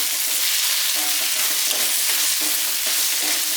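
Peanuts or cashews fry in hot oil for a makhana and peas curry, giving a loud, continuous close-up crackling sizzle with faint stirring pulses underneath and no voices.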